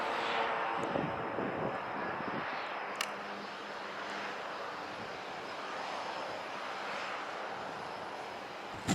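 A fixed-wing airliner passes overhead on final approach at St. Maarten without touching down, a broad, steady engine roar that holds loud and even across the whole stretch, with no talk over it.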